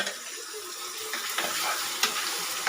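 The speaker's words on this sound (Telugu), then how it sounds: "ఇందాక మనం మ్యాగ్నేట్ చేసి పెట్టుకున్న చికెన్ ఉంది కదా, ఇందులో వేసేయాలి" Marinated chicken tipped into browned onions in hot oil, sizzling and frying steadily with stirring scrapes, several sharper clatters of the pan, loud and close with no talking.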